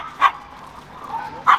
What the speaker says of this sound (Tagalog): Yung aso namin, pitbull, oh.